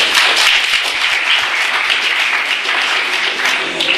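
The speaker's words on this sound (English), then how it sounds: "Give him a clap." An audience of engineering students at an institute in Hyderabad claps loudly and steadily for the whole stretch.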